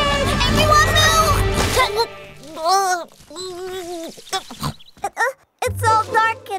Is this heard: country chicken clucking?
no